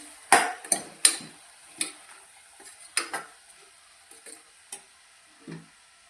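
Green pigeon peas and flat beans cook in oil in a pot for a Kathiyawadi vegetable dish, with a series of sharp clinks and taps from stirring spaced irregularly over a faint low sizzle.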